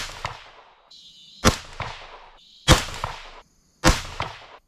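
A .22 DPC rifle fires Berger 80.5 grain bullets at a shooting range, three sharp, loud cracks spaced about a second apart, each trailing a brief echo.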